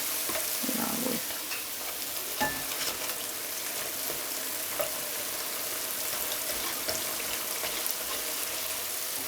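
Gluten-free churro dough in a ring shape frying in hot oil, a steady broadband sizzle and crackle throughout with a brief soft clink near the start, no talking.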